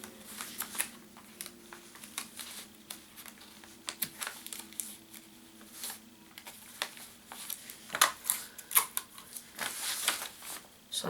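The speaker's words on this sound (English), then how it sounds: "So I'm taping this area down" Tape being pulled and pressed down onto a Battle City duel disk, with irregular crinkling, tearing and patting bursts near and close, growing busier toward the end, no voices.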